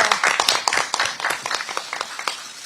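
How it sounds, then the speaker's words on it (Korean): A crowd at a party rally applauds and claps in a lively, fairly close patter of individual hand claps that gradually eases off. "네, 다시 한번 더 큰 박수 부탁드리겠습니다."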